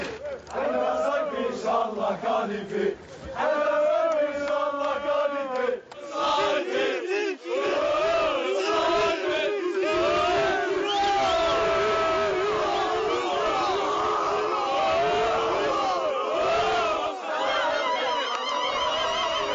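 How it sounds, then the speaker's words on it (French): Crowd of neighbours and childhood friends cheering and shouting with joy in the Saïfi neighbourhood of Algeria, a dense, continuous roar of many voices with whoops and chatter, loud and close throughout. "j'ai vu la foule. Il y avait plein de voisins, ses amis d'enfance qui le supportaient avec une très grande joie"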